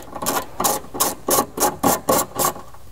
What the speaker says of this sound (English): I'm using a big socket wrench